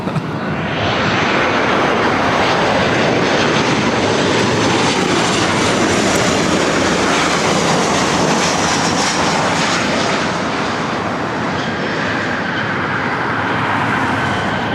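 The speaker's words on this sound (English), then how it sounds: "Alaska Airlines 1048 coming in from Seattle on a 737-900ER" An Alaska Airlines Boeing 737-900ER arriving at LAX from Seattle passes close overhead, a loud, sustained broadband jet engine roar that swells quickly and holds for the whole stretch before easing slightly.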